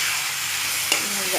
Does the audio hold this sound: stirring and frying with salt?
yes